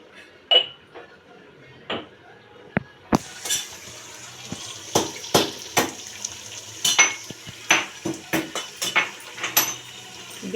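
Chicken dum biryani tempering in a pot on the stove, with repeated spoon clinks and scraping stirs over a low, steady sizzle, close and fairly loud, with no talking.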